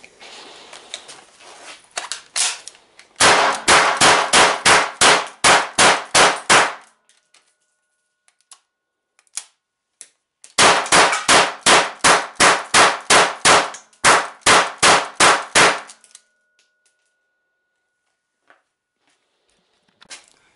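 A GSG MP 40 blank gun in 9mm PAK fires two long, loud, rapid full-auto bursts of sharp metallic cracks, with a few single shots and clinks around them and quiet gaps between.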